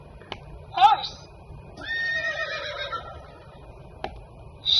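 A horse whinnies in a long, wavering neigh that sounds like a recording or toy, with clicks and a short shrill call before it and people speaking around it.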